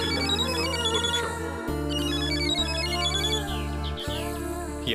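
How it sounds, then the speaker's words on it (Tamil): A mobile phone rings with a melodic ringtone over a steady backing tone, repeating its phrase loudly and continuously, an incoming office call interrupting a quiet outing. "என் ஆபீஸ்ல இருந்து ஒரு முக்கியமான கால்."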